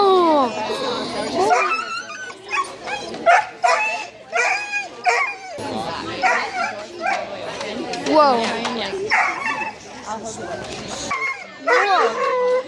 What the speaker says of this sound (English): Why are everybody barking?